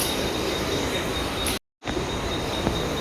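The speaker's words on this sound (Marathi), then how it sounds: "फायनली ट्रेन आली आहे" A train rolls in with a loud, steady rumble and rail noise, cut by a brief break in the middle.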